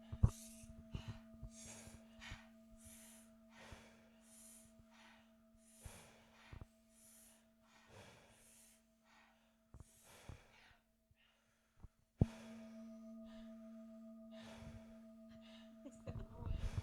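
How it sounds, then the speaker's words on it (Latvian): Quiet, repeated breaths during a guided breathing exercise come as short sniffs and exhales spaced across the stretch, over a faint steady electrical hum, with a few soft spoken words. "Elpojam vēl 1 minūte."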